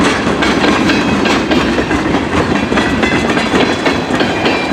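A CN freight train rolls past a trackside camcorder near Emmett, Michigan, a loud, close, continuous roar of wheels and clattering cars with no pauses or voices.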